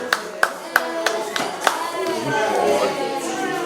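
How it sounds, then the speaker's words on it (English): A child at an Ekiti school claps hands in a short series of sharp, close claps, then other voices and light chatter carry on underneath. "Clap for yourself."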